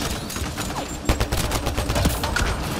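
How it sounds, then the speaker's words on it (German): Rapid gunfire rattles in dense bursts during a Mass Effect: Andromeda firefight, with one sharper blast like a grenade explosion cutting through the battle noise. "Ich höre schon wieder eine Granate."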